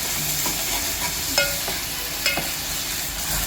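Masala and onions frying in a pan, with a steady close sizzle and a few scraping stirs of a spoon against the pan.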